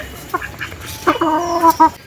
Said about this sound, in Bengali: আমাদের এই যে হাঁস মুরগি খাবার দিলাম ধান দিয়েছি ওরা খাচ্ছে